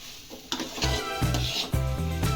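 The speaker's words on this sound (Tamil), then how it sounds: "நெய் கொஞ்சமாக சேர்த்துக்கிட்டு நல்லா கிளறிக்கணும்" Rava kesari stirred with ghee in a pan, a steady sizzle broken by rhythmic scraping strokes of a spoon, close and fairly loud.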